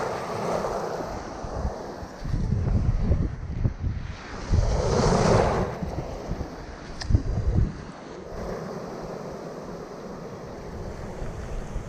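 Small ocean waves wash and surge near a boat at sea, with gusty wind buffeting the microphone in rolling bursts.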